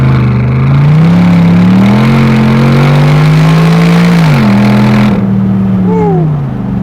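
A Mercedes SLR engine pulls hard and loud with a rich, deep exhaust note, rising through a long climb in pitch, dipping at a gear change, then climbing again before the note eases and fades as the car passes on.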